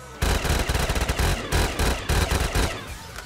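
Automatic gunfire in Black Ops 3 Zombies, a rapid series of loud, sharp shots in several bursts separated by brief gaps, close and dominant with no talk over it.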